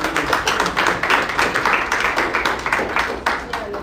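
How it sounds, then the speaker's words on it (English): An audience at a professional assembly claps for a tutor, producing a loud, close, rhythmic patter of many hands that beats steadily and without a break from start to finish. "Let's clap for her."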